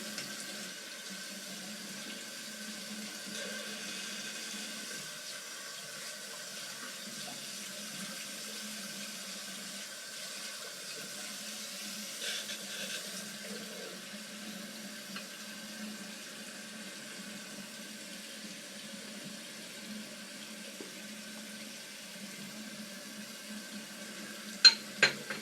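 Tap water runs steadily to rinse a Dovo Shavette straight razor, a constant even hiss lasting the whole stretch with only a couple of faint clinks near the end.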